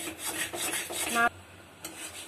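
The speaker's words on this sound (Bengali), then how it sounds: "এইভাবে নাড়লে লাল হয়ে যাবে।" A sweet naru mixture is stirred in a pan with quick rasping, scraping strokes against the metal, close and fairly quiet, ending in a short pause and one last scrape.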